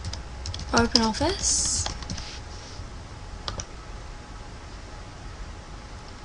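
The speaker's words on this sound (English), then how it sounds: "So just go into Google and type in" Quick, close clicking of keys on a computer keyboard comes in a short burst of typing under a voice, then fades to a few scattered clicks and quiet room noise.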